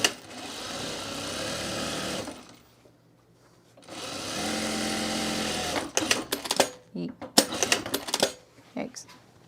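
A sewing machine stitches a seam on a mulch mat made from shredded scrap fabric, two sustained close runs separated by a pause, followed by choppy start-stop bursts.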